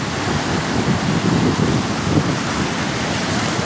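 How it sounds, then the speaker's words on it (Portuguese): Water of the Piranhas river rushes through the open gap in the Oiticica dam, a loud, dense, continuous roar with steady broadband turbulence and no voices. "passando aqui na fenda que está aberta para a água não acumular"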